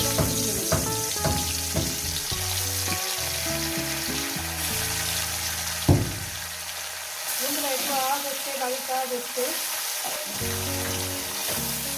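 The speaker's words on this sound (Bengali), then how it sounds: "মাছগুলো আমি হালকা করে ভেজে নিয়েছি" Bombay duck fish sizzle and crackle as they fry in hot oil, a steady frying hiss running throughout, with tonal music playing over it and a brief louder clatter midway.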